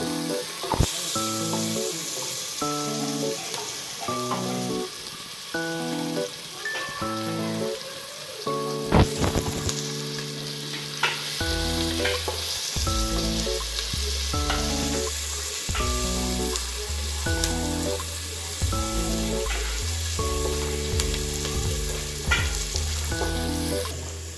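Onions frying in a pan for garlic chicken give a loud, steady sizzle like heavy rain that runs throughout, broken by occasional clatters and scrapes of a stirring utensil, with no talking.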